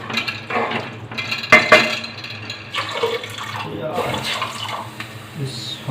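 Water poured into a pot for jeera rice, splashing and gurgling in uneven bursts with a metallic clink from the pot, close and fairly loud, while a voice talks at moments underneath.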